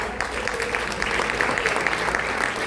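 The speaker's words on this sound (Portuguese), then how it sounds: "Aplauda o nome do Senhor mais uma vez." A church congregation claps together in a steady, dense round of applause at a pastor's anniversary service, filling the room without speech.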